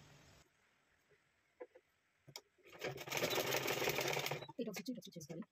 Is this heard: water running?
no